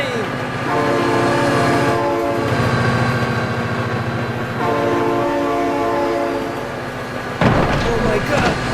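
In the BeamNG.drive driving game, a train's horn blares in long sustained chords as rail cars rumble past loudly and close by, with a sharp crash-like burst near the end.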